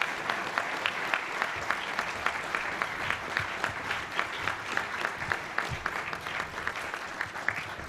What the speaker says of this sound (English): How about a round of applause for our guest speaker today?